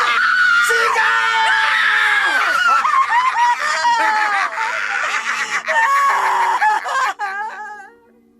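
A woman screams long and loud, close up, her sustained shrieks breaking into wavering wails and sobbing gasps before cutting off.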